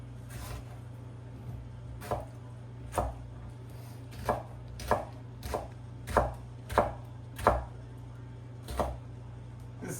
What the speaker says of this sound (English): I like to cut my tomatoes in the fourths for my salad